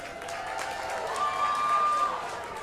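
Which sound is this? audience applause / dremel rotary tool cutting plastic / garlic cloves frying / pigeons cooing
audience applause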